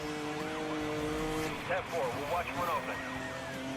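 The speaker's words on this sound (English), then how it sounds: "That's a lot of drifting" Tires squeal and engine revs whine as a car drifts in Need for Speed Most Wanted, the sliding screech rising and wavering over a steady motor drone, fairly close.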